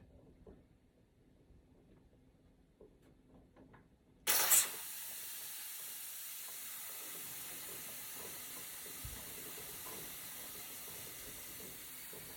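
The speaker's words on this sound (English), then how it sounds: "It's gonna spit out the rest of the steam" A sudden loud burst of steam hisses from a pressure canner partway through, then settles into a steady, continuous hiss that fills the rest of the clip.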